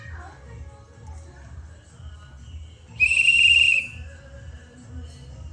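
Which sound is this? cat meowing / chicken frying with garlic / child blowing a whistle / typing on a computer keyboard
child blowing a whistle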